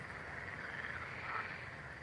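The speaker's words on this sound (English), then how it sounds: "The frogs, he muttered." Frogs croak in a dense, continuous chorus on a lake shore at night, a faint steady wash of calls with no voices over it.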